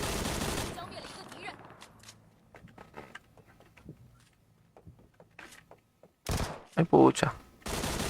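Gunfire erupts in a video game with loud bursts of rapid shots at the start and again near the end, separated by quieter clicks and movement. A player speaks briefly.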